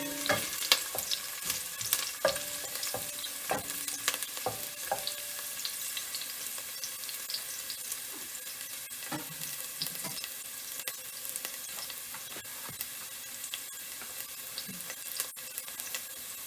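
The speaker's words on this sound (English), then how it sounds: "So this is frying up very nicely." Garlic fries in a pan for a Jamaican-style brown stew turkey neck, a constant close sizzle dotted with sharp pops and crackles, with no one speaking.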